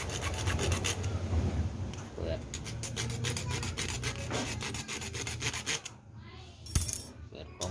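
Rhythmic back-and-forth rasping of a hand saw cutting wood, steady strokes close by, with a short pause and a clatter near the end.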